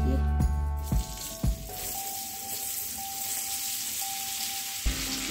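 About 400 grams of roughly chopped onions fry in a pan while Old Delhi-style chicken changezi is being cooked, giving a steady close sizzle with a few short bumps of handling over low background tones.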